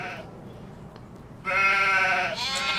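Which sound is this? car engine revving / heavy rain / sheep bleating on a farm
sheep bleating on a farm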